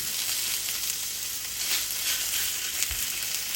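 Egg-based sausages fry in a pan that is not very hot, making a steady, close hiss and crackle with a few small pops throughout.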